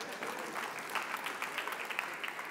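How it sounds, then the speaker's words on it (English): A convocation audience claps steadily, a soft, even patter of many hands heard from a distance, fairly faint and without voices. "Let's give a round of applause for California weather."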